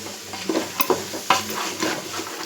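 Boiled chickpeas being stirred into masala in a pan, with scraping spoon strokes and soft sizzling at an irregular pace, close and fairly quiet, with no voices.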